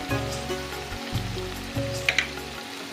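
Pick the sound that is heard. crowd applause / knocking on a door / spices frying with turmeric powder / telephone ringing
spices frying with turmeric powder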